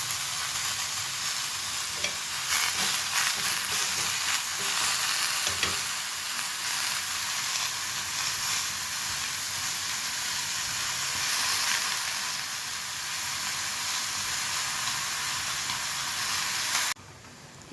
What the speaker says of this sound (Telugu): టమాటోస్ వేసుకొని చిన్నది మగ్గిద్దాం.